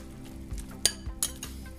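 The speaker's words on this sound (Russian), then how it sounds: "Перемешиваем." A pomegranate and onion salad is stirred with a utensil in a bowl, giving a few faint, brief clinks and soft scrapes over quiet kitchen background noise.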